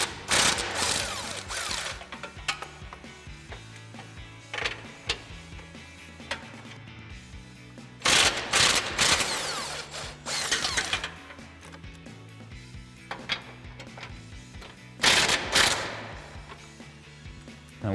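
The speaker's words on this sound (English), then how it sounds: "So I've got a 21mm socket with a swivel adapter and a little bit of an extension to" Ratchet with a 21mm socket, swivel adapter and short extension loosening front bumper bolts on a 2021-2023 Ford F-150, with bursts of fast clicking and rattling between quieter stretches of faint metallic handling.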